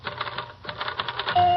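Six typewriters clatter as a comic sound effect in an old-time radio comedy song, a rhythmic run of sharp keystrokes that ends in a steady sustained tone.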